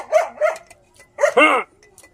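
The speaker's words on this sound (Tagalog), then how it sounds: "Ingay ba yung aso nito?" A dog barks in two quick pairs of sharp, close barks with short pauses between, no talking.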